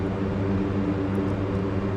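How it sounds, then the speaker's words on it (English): Lockheed C-130J turboprop engines in DCS World spool up before takeoff, a steady loud propeller drone and whine holding throughout without voices. "you will hear the sound of the engines go up"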